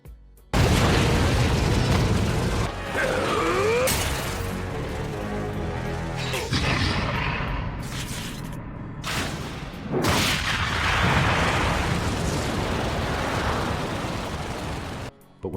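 A huge anime battle explosion erupts from Renji's Zabimaru as he stabs Uryu, a loud roaring blast with crackling debris and a rumbling, monstrous growl, followed by further booming impacts and sharp bursts.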